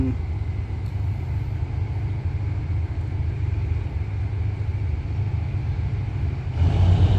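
A heavy diesel locomotive engine rumbles loudly and steadily, its deep throb growing stronger near the end as it revs up.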